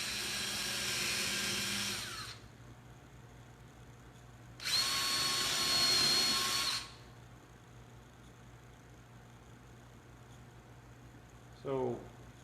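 Power drill boring screw holes in the wood of a handmade hobo fiddle at a workbench, two sustained whining bursts of about two seconds each with quiet between, then a brief short spin at the end.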